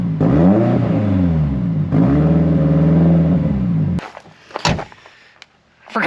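A Porsche 944 Turbo that sat for five years idles loudly and revs in two rising-and-falling swells close by, then cuts off and gives way to clunks and door-like knocks.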